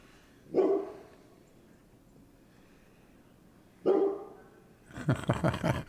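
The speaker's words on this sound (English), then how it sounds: "I'm going to listen to Joker bark" A dog named Joker barks: one sharp bark, a pause of about three seconds, a second bark, then a quick run of rapid yapping barks at close range.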